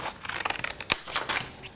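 Scissors snipping through paper in quick, light cuts, with one sharper snip standing out partway through; close and fairly quiet, no talking.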